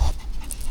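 Panting from dogs at a summer campsite on crushed-stone ground, one of them an old dog of about ten; short, breathy rhythmic huffs at close range, heard alone over a brief moment.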